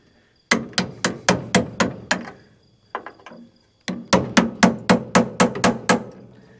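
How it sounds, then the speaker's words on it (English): Brass hammer striking a tight plastic bushing into a truck clutch pedal: two runs of about eight sharp, evenly spaced metallic blows, separated by a pause with a couple of lighter taps, loud and close. "I'm using brass to beat on this"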